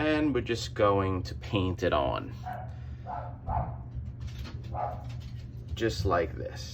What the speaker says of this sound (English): And excuse my dogs.